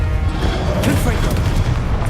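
Confringo blasting spells explode in Hogwarts Legacy as deep, loud booms rolling over a continuous low rumble. A voice is talking over the blasts at the same time.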